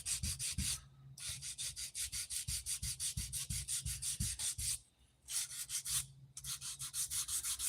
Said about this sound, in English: Just the monotonous, repetitive hand sanding.